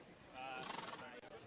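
A horse whinnies in a short, fairly loud burst that rises and wavers before fading, with other sounds mixed in around it.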